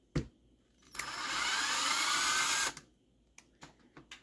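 A power driver drives screws into a nitro engine roto starter: a steady, close whirring run of about two seconds, framed by sharp clicks and handling knocks.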